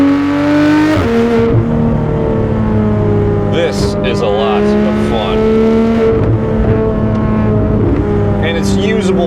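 A Porsche 911 991 GT3 RS engine revs hard while driving, its loud exhaust note climbing and dropping through repeated up-shifts, with someone talking over the sustained roar.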